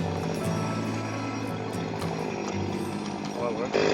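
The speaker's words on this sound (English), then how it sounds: "we just learned now not to use a chainsaw" A chainsaw running steadily close by, a dense buzzing drone that holds level throughout with a slight surge at the end, with voices underneath.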